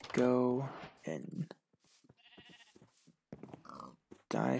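Sheep bleat in the Minecraft video game, a loud wavering bleat opening the moment and another at the end, with someone talking in between.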